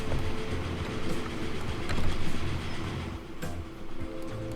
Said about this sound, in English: That's the Corby train.